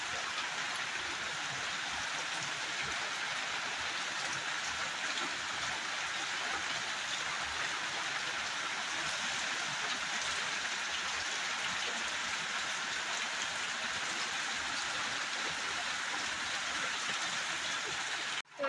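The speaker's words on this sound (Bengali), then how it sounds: "প্রচণ্ড হারে বৃষ্টি পড়ছে" Heavy rain pouring down outside, a dense, unbroken hiss of falling water that stays steady and even for the whole stretch before stopping abruptly.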